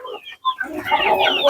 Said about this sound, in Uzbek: Xo'p, xirozlarimiz oldilari qichqirdi.